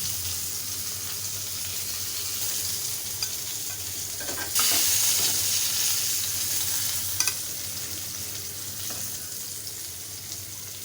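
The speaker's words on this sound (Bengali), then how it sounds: "আর বাকি কাঁকরোলগুলো ভেজে নেব" Teasel gourd (kakrol) frying in hot oil in a pan as a fish curry is cooked, with a steady close sizzle that swells louder midway, plus a few sharp clinks and scrapes of stirring.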